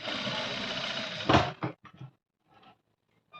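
An electric sewing machine stitches cutwork sleeve fabric with a fast, close, steady whir that stops abruptly, followed by a few short clicks and bumps of handling.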